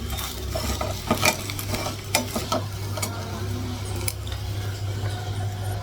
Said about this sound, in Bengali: তরকারিটাও গরম করলাম